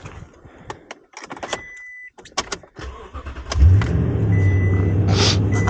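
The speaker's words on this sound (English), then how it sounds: "when you go to turn on the truck" A pickup truck used to tow a travel trailer cranks and its engine catches about halfway through, settling into a steady, loud low idle after some faint clicks and taps.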